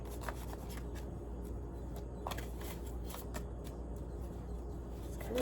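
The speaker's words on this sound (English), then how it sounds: "It's kind of tough to shuffle up here" Soft, quiet riffling and rubbing of tarot cards being shuffled in short bursts over a faint background hum.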